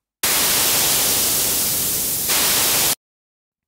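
A loud, steady burst of hissing noise with the EQ mid-band cut, giving a hollowed, filtered tone that brightens near the end before cutting off abruptly into silence.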